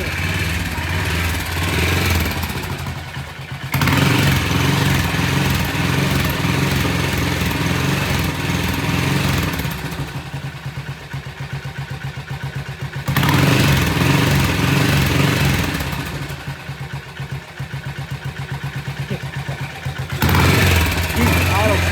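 BSA 441 Victor single-cylinder motorcycle on a test ride, its engine alternating between loud revving stretches and quieter idling, with people talking in between.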